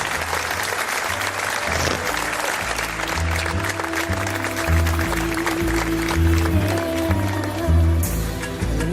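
An audience applauds Joaquín Cruz after a poetry recitation at a talk on dragon legends, steady clapping running throughout over a low rhythmic backing of music.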